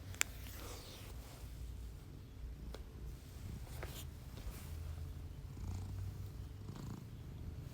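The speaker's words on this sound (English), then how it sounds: "You can hear him purring on." A cat purrs softly and continuously in a quiet room, a low rhythmic rumble with a few faint clicks and rustles over it.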